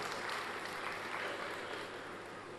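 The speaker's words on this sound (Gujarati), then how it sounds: "તાળીઓથી સ્વાગત કરીએ મિસ્ટર બરુણ દાસ" Steady, faint applause from an audience welcoming TV9 Network MD and CEO Barun Das to the stage at Pravasi Gujarati Parv 2022, a continuous even wash of clapping with no speech over it.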